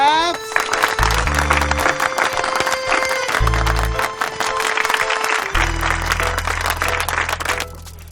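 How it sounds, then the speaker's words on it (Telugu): Applause breaking out in a movie scene, steady dense clapping lasting several seconds alongside loud music with deep sustained tones. "క్లాప్స్."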